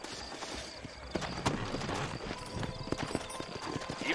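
Horse hooves clip-clopping in the Western video game Red Dead Redemption, a brisk, uneven run of close hoof knocks with a brief whinny, over low ambient game sound.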